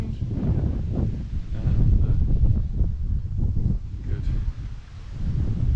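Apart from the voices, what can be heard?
strong wind blowing outdoors in Mallorca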